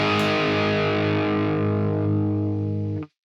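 A distorted electric guitar set for the tone of a well-known rock song rings out as one thick, sustained chord, loud and heavily saturated, holding steady for about three seconds before cutting off abruptly. No voices.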